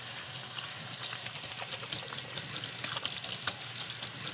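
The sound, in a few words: hands being washed with soap under running tap water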